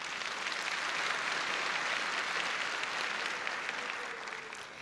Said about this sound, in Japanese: 公民館は必要だと思う方拍手で答えてください。